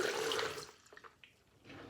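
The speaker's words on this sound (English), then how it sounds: "I take my pitcher and fill it up about halfway with water." Tap water runs into a pitcher for about the first second, a bright splashing gush that stops abruptly, followed by faint drips and quiet handling before a soft rise of noise at the end.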